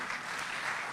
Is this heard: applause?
yes